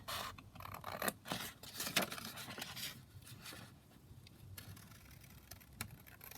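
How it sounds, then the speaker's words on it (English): Scissors snipping a paper journaling card out of a junk-journal kit sheet, a run of quiet, close, irregular cuts and soft paper scrapes. "Just going to chop this journaling card out"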